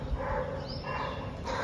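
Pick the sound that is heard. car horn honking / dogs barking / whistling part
dogs barking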